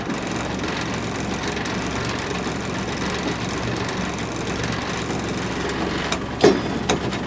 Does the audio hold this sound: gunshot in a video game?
no